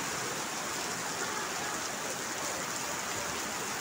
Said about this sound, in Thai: ฝนเทสาเทเสียลงมา